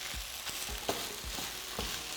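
Food is stirred in a hot frying pan with Nando's sauce, giving a soft continuous sizzle broken by regular scraping strokes of a utensil, close and without speech.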